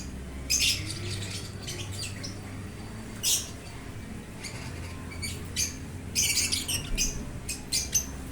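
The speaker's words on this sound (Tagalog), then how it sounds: "yun yung mga pangmalakasan nating ibon sa ating aviary ngayon" Chirps and squawks from many birds in an aviary come in scattered bursts over a steady low hum, some calls clustered close together, none very loud.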